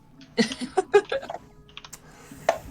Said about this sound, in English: all I can hear is him typing